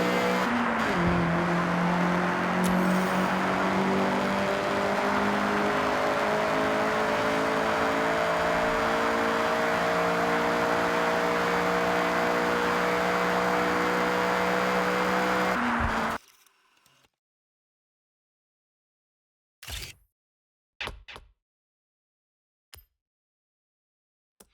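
Honda CRX engine revving steadily and climbing through gears for about sixteen seconds, loud and close with a continuous drone, in Forza Horizon 6, then cutting out to silence broken by a few brief faint knocks.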